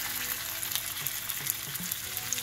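A herb-crusted fillet sears in hot oil in a pan, a dense, steady sizzle and crackle with small pops, heard close up and alone.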